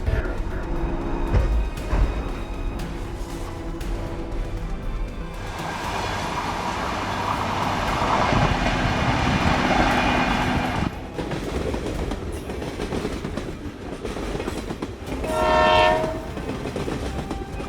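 A train rushing past on railway tracks, rising to a loud, broad roar with rhythmic wheel clatter and a horn blast near the end, heard close without any talk.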